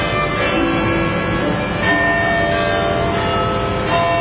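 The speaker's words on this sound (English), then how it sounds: "This is the bell known as Big Ben." Big Ben, the great bell in Elizabeth Tower beside the River Thames, chiming with a loud, rich sustained ring that blends into a dense, steady wash of tone and background noise.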